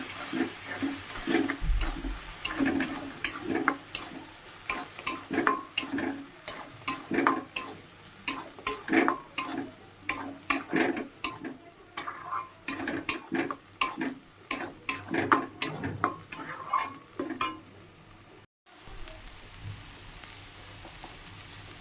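Coconut paste fries in a pan for a pointed gourd dorma, with a soft sizzle under many rhythmic spatula scrapes and taps that continue steadily, broken only by one brief pause near the end.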